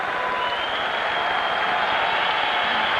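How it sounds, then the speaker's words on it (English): Hockey arena crowd in Montreal applauds the Canadiens for killing off a penalty in a 1990 playoff game against Boston, a steady, dense roar of clapping with a faint voice beneath. "And the applause for the Canadiens for killing off"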